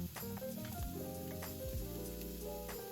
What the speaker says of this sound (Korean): 팬에 기름을 두르고 고추랑 양파를 먼저 볶아줄 거예요